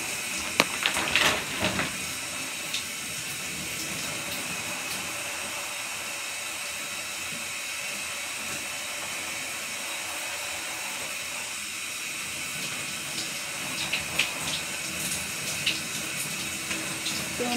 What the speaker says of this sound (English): I'm still in the shower.